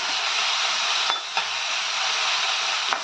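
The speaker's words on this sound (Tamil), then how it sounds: "இதில் எண்ணெயிலே வதக்கலாம்." Ground mint paste sautéing in oil in a pan, a steady close hiss of frying with a few soft scraping stirs of a spoon.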